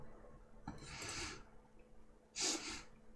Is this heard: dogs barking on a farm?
no